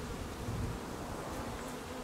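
Honey bees drone in a dense, continuous buzz from an opened hive, close and steady with no voices.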